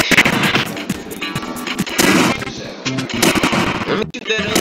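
Video game gunfire, dense loud bursts of rapid shots with a few heavier blasts, nearly continuous across the clip with only brief gaps.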